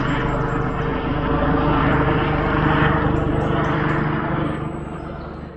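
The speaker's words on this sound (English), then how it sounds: "I can see the helicopter." A steady low engine drone and rotor rumble from a helicopter overhead, circling near a quiet camp, fairly loud and constant, fading slightly toward the end.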